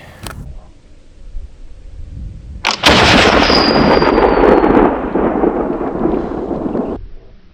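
A flintlock muzzleloader rifle fires at deer during a Pennsylvania deer drive, a sharp outdoor blast followed by a long rolling boom that echoes away over several seconds, with a faint earlier crack at the start.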